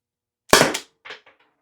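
A Byrna pepper ball launcher fires a single sharp, close pop followed by two quick, fainter impact or echo cracks, with silence on either side.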